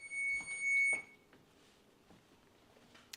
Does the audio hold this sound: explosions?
no